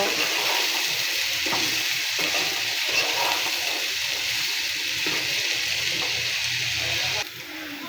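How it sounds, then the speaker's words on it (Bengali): Potatoes fry in a pan for an egg-and-potato curry, giving a continuous close sizzle with occasional stirring clicks and scrapes that stays even until a brief dip near the end. "বন্ধুরা এবার আলুটাকে একটু ভেজে নিব, ডিমের সাথে যেহেতু দিব।"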